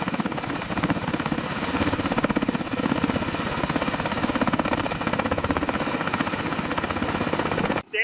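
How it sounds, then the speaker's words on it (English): Rotor engagement on the largest US helicopter: a loud, continuous rapid rotor chop and turbine roar fills the whole stretch, steady and close, cutting off abruptly at the end. "Stand by for rotor engagement."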